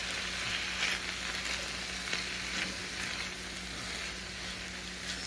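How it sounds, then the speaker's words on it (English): Vegetables sizzling steadily in a cast iron enamel pan, a continuous close frying hiss with faint stirring scrapes throughout and no talking. "let's just get our veggies in. And we'll just give them a little, you know, cook just for about a minute or two."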